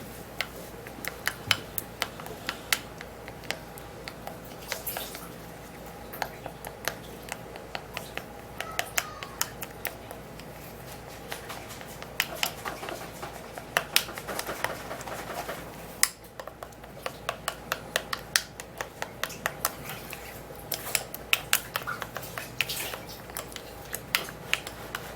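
Face mask ingredients being stirred in a bowl, giving a steady run of small clinks and taps from the utensil against the bowl, close and fairly quiet, with no talking.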